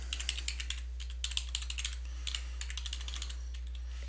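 Rapid clicking keystrokes on a computer keyboard during live HTML coding, irregular bursts of close, crisp taps with brief pauses, no voices.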